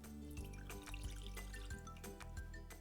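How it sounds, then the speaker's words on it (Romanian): Water poured into a saucepan for baklava syrup, a quiet trickling and dripping sound with soft splashes, close and alone. "Voi începe cu apa, pe care o pun într-o cratiță."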